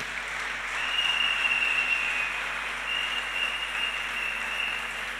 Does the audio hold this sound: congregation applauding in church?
yes